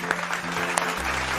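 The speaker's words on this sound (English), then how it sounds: "Okay children, come on, clap your hands." Clapping in a nursery lesson, a brisk patter of hands that blends with a sustained musical tone in the background.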